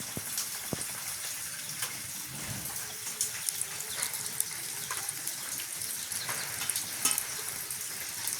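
Prawn vada fries in oil in a pan, cooked outdoors in a village. The oil sizzles and bubbles steadily throughout, with occasional small clinks and pops close by.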